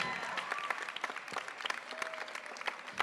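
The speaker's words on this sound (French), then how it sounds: "Merci de faire un tonnerre d'applaudissements" A crowd applauds at a Miss Earth Réunion 2015 pageant, dense clapping with sharp individual claps that holds steady for a few seconds, fairly distant and moderate in level.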